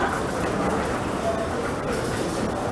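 A Shanghai metro train at People's Square station, where three lines cross, gives a steady, loud rumble of rolling wheels and motors, with faint voices mixed in the background.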